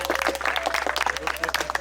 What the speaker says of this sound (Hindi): एक बार विश्वास भाई और अतुल भाई के लिए जोरदार तालियां हो जाए।